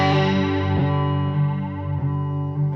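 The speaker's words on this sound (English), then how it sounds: "what you'll hear is the flanging is warmer" Electric guitar chords sustain through a Chase Bliss Spectre through-zero flanger pedal set to positive mode, giving a warm, slowly sweeping whoosh that rises and falls in repeating cycles, played alone at moderate level.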